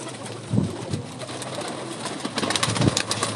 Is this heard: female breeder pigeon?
yes